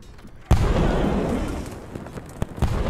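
A barrel struck by an archer's shot blows up in Totally Accurate Battle Simulator, one sudden loud blast that rumbles and decays over a couple of seconds, with a few small pops after it.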